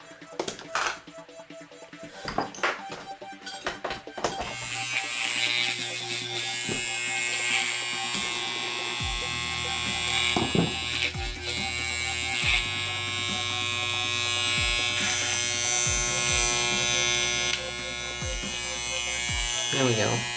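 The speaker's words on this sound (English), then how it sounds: "So that's a good cutting clipper." A Wahl 5 Star electric hair clipper runs with a steady close buzz and hum while it is being adjusted. Blade tension is set tight, and someone talks over the motor throughout.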